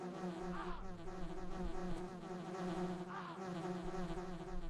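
Bees buzz continuously in the Resident Evil video game, a steady droning hum that holds at an even level throughout with a faint rise and fall.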